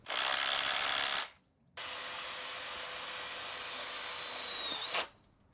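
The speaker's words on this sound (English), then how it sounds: "tighten the bolt and secure the P-clip with a self-drill screw" A power drill drives a self-drill screw through a P-clip on a polytunnel post: a short loud whine, a brief gap, then a longer steady run that ends abruptly.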